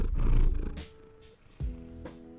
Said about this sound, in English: Could y'all hear the cat purr?